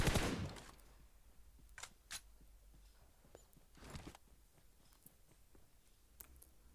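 Several sharp video game gunshots crack at uneven intervals, one loud burst at the start and a few quieter distant shots after, over a low steady background rumble.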